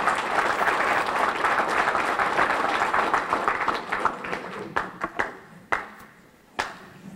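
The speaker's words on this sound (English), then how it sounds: "Consultants, please stand with me and give our students a round of applause." An audience at an opening session applauds students, broad sustained clapping that thins out after about four seconds into scattered individual claps and taps before fading.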